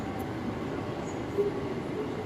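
Steady low rumble of an MRT metro train near Global Mall in Taiwan, a continuous rolling hum with faint mechanical squeaks and a brief clack, heard at moderate distance.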